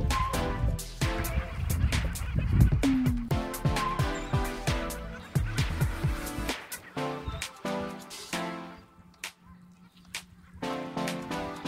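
Geese or similar fowl honk repeatedly at close range, a busy run of overlapping calls with a brief quieter stretch near the end.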